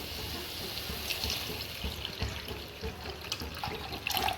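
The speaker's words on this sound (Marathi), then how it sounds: "हे बघा पाणी टाकून घेतलेलं आहे" Water is poured into a pan of halim seeds roasted in ghee for kheer, producing a soft, continuous splashing and gurgling stream that is fairly quiet and heard alone.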